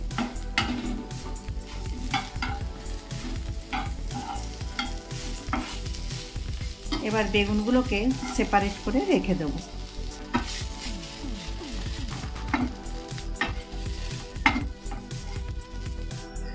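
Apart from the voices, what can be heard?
eggplant frying in a little oil, stirred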